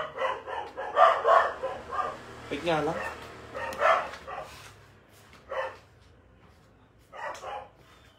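Several dogs bark in short bursts of sharp, excited yaps close by, with a rooster-like cry mixed in and a person speaking between the barks.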